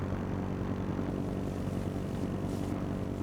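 Steady rotor and engine drone of a helicopter in the H1Z1 King of the Kill game, a constant mid-distance hum with no speech.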